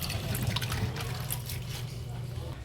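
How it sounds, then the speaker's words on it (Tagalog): Salted food is rinsed under water in a home kitchen: a steady trickle and slosh of running water sounds close by while a person talks over it. "huhugasan natin siya ulit para yung alat is mawala"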